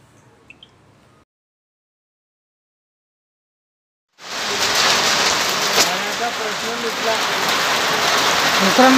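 After a few seconds of near silence, heavy rain from a thunderstorm with strong wind suddenly bursts in and pours down steadily and loudly to the end.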